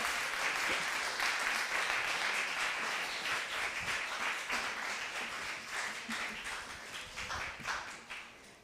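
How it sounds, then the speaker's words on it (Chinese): A church congregation applauding at a Presbyterian Sunday service, a continuous wash of clapping from many hands that gradually tapers off toward the end, heard from within the room. "鼓掌，恭喜他们啊"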